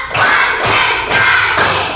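Children clapping hands in unison during a classroom counting chant, a few loud group claps in a steady rhythm, close and filling the space.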